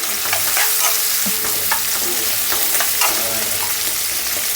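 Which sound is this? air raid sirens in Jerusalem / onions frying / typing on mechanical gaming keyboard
onions frying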